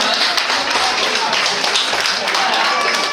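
An audience applauds before a cooking contest for Asian cuisine, a dense, steady burst of clapping mixed with voices throughout.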